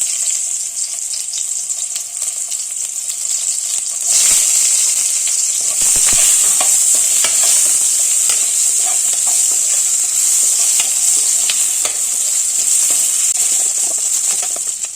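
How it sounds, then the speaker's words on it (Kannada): Onions frying in oil in a pan, a steady bright sizzle that runs the whole time with a few small clatters and stirring bumps partway through, and no voices. "ಸ್ವಲ್ಪ ಈರುಳ್ಳಿನ ಫ್ರೈ ಮಾಡಿಕೊಂಡೆ."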